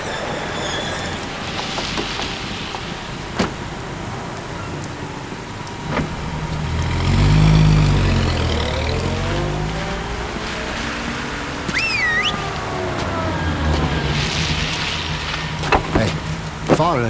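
A taxi drives through rain, its engine a steady low rumble that swells midway, with a wet hiss of tires and rainfall and occasional higher tonal whines layered over it.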